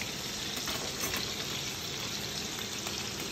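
Rice being stirred in a frying pan for Thai pineapple soy chicken gives a steady close sizzle with faint scraping and stirring texture throughout and no speech.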